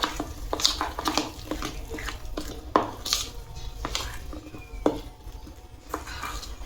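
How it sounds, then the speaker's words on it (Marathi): Carrot and wheat flour cake batter being stirred in a bowl, with a spoon scraping and clinking against the sides in an uneven steady rhythm, close and moderately quiet, without talking. "आता हे व्यवस्थित मिक्स करून घेते।"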